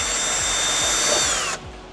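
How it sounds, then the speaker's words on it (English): A power drill runs steadily while boring a hole into a plastic aftermarket car part, a continuous high whine holding for about a second and a half before cutting off abruptly. "Now we just got to drill the hole."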